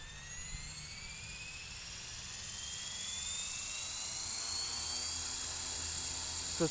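A small four-blade RC helicopter's rotor whines as it spins up, its pitch climbing steadily and the sound growing slightly louder over several seconds.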